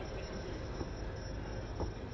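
Steam train on the line from Caernarfon to Porthmadog through Snowdonia, Wales, heard as a steady, rumbling roll of carriages on rails with faint rhythmic wheel clicks and no voices.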